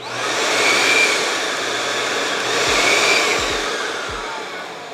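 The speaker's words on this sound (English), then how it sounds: "I make sure my vacuum is off, plug it in. I'm gonna go ahead and turn it on." A ProTeam backpack vacuum motor whirring steadily after being switched on, a loud, close, continuous high-pitched drone that holds nearly constant, with faint low thumps underneath.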